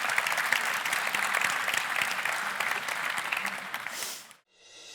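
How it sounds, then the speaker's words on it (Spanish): Audience at an agricultural seminar on residual herbicides applauding after a talk, dense steady clapping that fades out abruptly near the end. "le volvemos a agradecer con un fuerte aplauso a Jorgelina"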